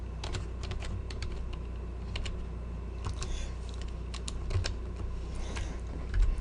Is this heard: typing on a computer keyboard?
yes